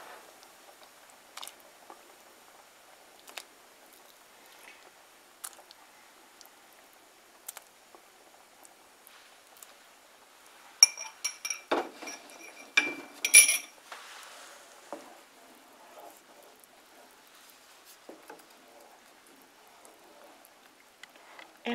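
Cream cheese is stirred into simmering tomato soup in a pot, heard as faint scattered clinks and scrapes of a utensil against metal, with a brief busier cluster of clatter midway and quiet gaps between.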